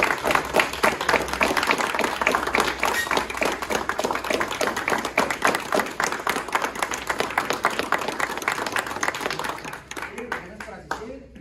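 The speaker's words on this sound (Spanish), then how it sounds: "nuevamente pues le damos un aplauso" An audience applauds after an award presentation at an astronomy league talk in Chihuahua, a dense, steady wash of many hands clapping close by for about ten seconds before thinning out near the end.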